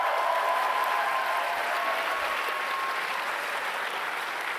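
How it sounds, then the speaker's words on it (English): A crowd applauds steadily, with clapping filling the whole stretch at an even level before easing slightly toward the end. "So let's give them a round of applause."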